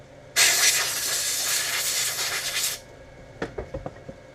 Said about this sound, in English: Let's give the float a little shot in case there's any dirt on it.